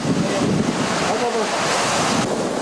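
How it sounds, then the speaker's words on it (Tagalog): Steady roaring typhoon wind with a broad rushing wash of heavy rain, continuous and loud throughout without a break, in Camarines Sur. "Uubong ang hangin at may kasabay na ulan at may pagkakataong kikidlat pa."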